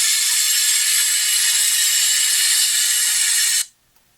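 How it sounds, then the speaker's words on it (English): A popcorn texture sprayer blasts patching material onto a drywall ceiling repair, giving a steady, loud, hissing rush that runs unbroken for a few seconds before stopping abruptly. "Now we're going to spray the area with a popcorn sprayer."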